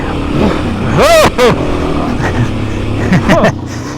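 Off-road riding with a Kawasaki KLX 300 and a Suzuki DRZ 400: a motorcycle engine rises in sharp revving bursts, strongest in the middle, then revs up again near the end over steady trail noise.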